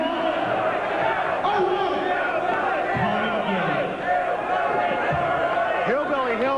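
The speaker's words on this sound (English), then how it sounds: "listen to this crowd in the watering hole" A wrestling crowd at a pro wrestling show in a bar venue roars steadily throughout, a dense loud wall of cheering and shouting with excited voices rising over it.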